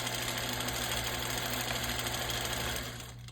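A sewing machine stitches dense custom quilting on a quilt of valor, a steady loud mechanical hum and rapid rattle running continuously, then easing off and quieting near the end.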